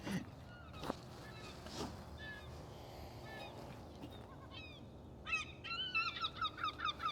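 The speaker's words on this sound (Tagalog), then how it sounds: "Daming ibon no." Many birds call outdoors in warm daytime heat, with scattered chirps early on and then a dense run of repeated high calls toward the end over steady background noise.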